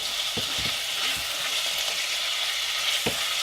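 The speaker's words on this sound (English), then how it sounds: "And in goes the beef. And we're just going to brown that off," Beef browning in a pan for curry on a tiny Salamander cook stove, with a steady, close, loud sizzle and a few scraping stirs.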